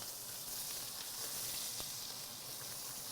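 Short ribs sear in a hot pan with a steady, even sizzle that stays moderately close and continuous throughout, with no talking.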